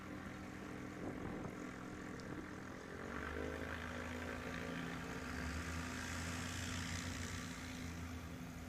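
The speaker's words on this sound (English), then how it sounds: "Race 122, a 1958 Cessna Experimental 175." A 1958 Cessna Experimental 175 racing at a backcountry STOL competition drones steadily with its propeller engine, heard from a moderate distance and rising slightly in pitch as it passes.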